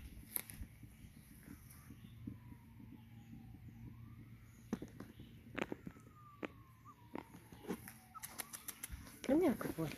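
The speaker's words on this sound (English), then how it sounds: "Fire sirens." Distant fire engine sirens wail and rise and fall faintly in the background while a voice talks nearby, with occasional clicks and bumps close by.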